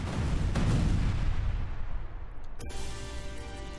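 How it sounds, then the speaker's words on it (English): A chain explosion of about twenty landmines in a dark forest, a loud, rumbling roar that fades slowly, then cuts sharply to a quieter, hissing tail. "Shockwave from the 20-odd landmine chain explosion reached us without any trouble."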